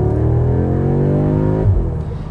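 A 2021 Audi S3 in dynamic mode drops several gears and accelerates hard, its engine note climbing loud and steady from inside the cabin before a brief shift dip and a short settle at the end.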